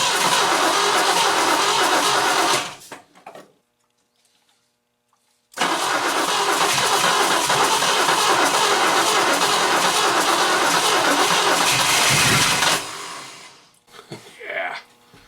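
A 1964 Oldsmobile 98 luxury sedan cranks and fires, runs loud and steady for about seven seconds, cuts out, then catches again; a voice talks briefly during the pauses.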